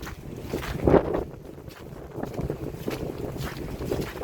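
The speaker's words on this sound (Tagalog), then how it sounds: "Hangin." Steady wind during freezing rain roars and buffets the microphone, with a louder gust near the start and a rough, rushing texture throughout; no one speaks.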